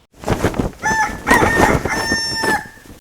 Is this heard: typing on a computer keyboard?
no